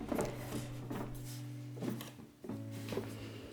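A drawer of a beech wood art organizer with ten drawers slides open and shut, giving repeated close wooden scraping glides separated by short pauses.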